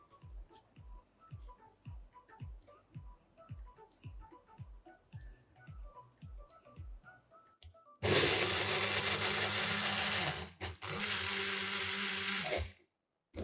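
A mixer grinder blitzing cooked, half-mashed tomatoes into pizza sauce, a loud whirring roar in two bursts with a brief pause between, after a stretch of quiet, regular ticking.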